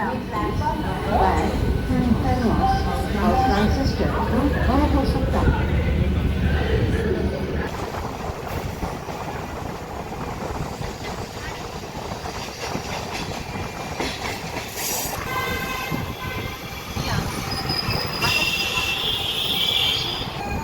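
An MMTS local train pulls out of Kacheguda railway station, its wheels rumbling and clacking steadily on the rails, with a brief squeal. Loud and continuous, heard from on board with voices in the background.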